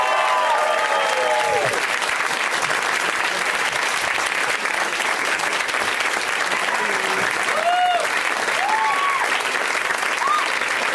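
A live comedy podcast audience bursts into dense, loud applause as the guests come on, a continuous wash of clapping with scattered voices and cheers rising through it.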